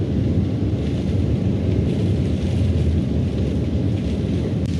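Heavy rain pours down steadily in a dense, continuous roar, a loud, even wash of noise with no break, heard from indoors during a downpour in Şanlıurfa, Turkey.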